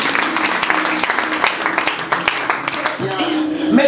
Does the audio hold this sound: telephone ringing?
no